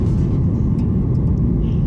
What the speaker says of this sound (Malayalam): കൃത്യസമയത്ത് തന്നെ ഫ്ലൈറ്റ് പൊങ്ങാൻ തുടങ്ങി